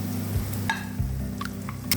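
Ginger paste sizzles and spits in hot oil in a pan for a Bengali rohu fish curry, a steady close frying hiss with a few sharper pops and a brief stir, no voices.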